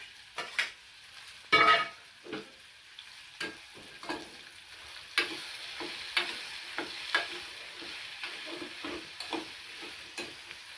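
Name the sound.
stirring vegetable curry with masala in a pan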